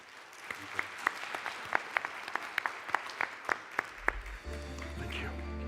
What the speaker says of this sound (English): If you would join me in giving a round of applause,